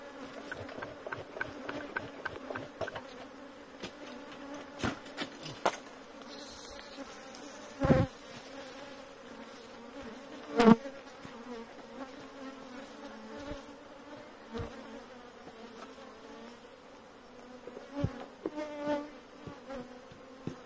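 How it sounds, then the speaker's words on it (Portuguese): Bees buzzing steadily around opened hives during a honey harvest, a continuous close insect drone with occasional sharper knocks and handling bumps, and no talking. "É massa, viu, essas abelhas."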